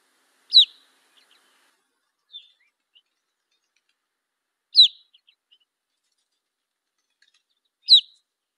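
Three sharp, pure-tone whistled calls of a Type 1 red crossbill, the eruptive call type of the western United States, spaced several seconds apart with a few faint softer notes between, clear against a silent background.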